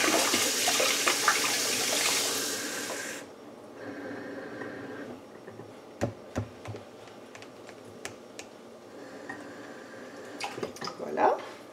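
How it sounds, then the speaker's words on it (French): Cold water runs from a tap into a cup already holding an egg and a spoonful of vinegar, a steady broadband pour for about three seconds, followed by quieter clinks and taps in a home kitchen. "on remplit le reste de la tasse avec de l'eau froide"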